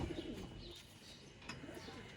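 Pigeons kept for pigeon keeping coo softly at a pigeon sale, low murmuring calls at moderate distance, ending with a sharp burst of noise.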